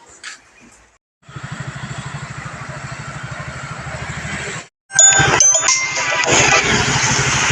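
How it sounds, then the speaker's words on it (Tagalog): A motorcycle idles with a steady, close pulsing putter for a few seconds, cuts out, then comes back with a louder engine mixed with clinking and bell-like ringing. "Motor yun ni Konsi Apeng."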